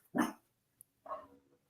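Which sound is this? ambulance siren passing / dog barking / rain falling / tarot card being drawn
dog barking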